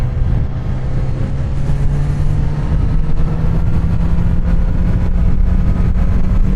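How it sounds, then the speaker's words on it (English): Kawasaki Z900RS motorcycle on its standard exhaust, a steady low engine drone with a constant hum running throughout, close and fairly loud, no talking. "Standard exhaust, still a nice sound."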